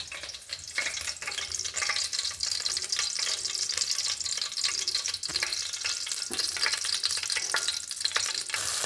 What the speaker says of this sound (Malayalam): കടുക് പൊട്ടി അതിൽ കാന്താരി, ഇഞ്ചി, വെളുത്തുള്ളി ഉള്ളതിലിട്ടിട്ടുണ്ട്.